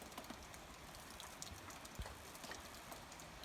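Light rain falls steadily outside on an overcast afternoon, a soft continuous hiss with scattered drip ticks, fairly quiet and uniform with no voices.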